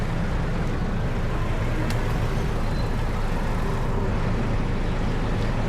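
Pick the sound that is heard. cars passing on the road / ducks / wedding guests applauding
cars passing on the road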